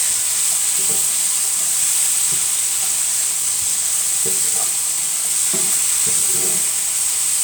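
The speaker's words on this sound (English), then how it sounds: "I'm going to leave that to cook for another, in the oil for another 4 minutes" Beef pieces for a stew curry sizzle loudly in a little hot oil, a constant close frying hiss with intermittent scrapes and bumps as the meat is turned in the pan.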